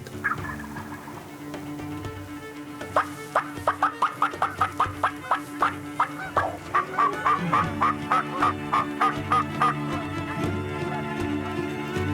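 Wild turkeys gobble in a rapid, rattling burst about 10 metres away, followed by a second run of quick gobbling notes over a steady outdoor background.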